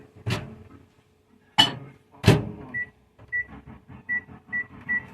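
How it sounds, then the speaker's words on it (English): A microwave oven is set to heat water: three heavy door thumps and clunks, then a run of short, sharp keypad beeps at an even pace. "So we're going to microwave this water."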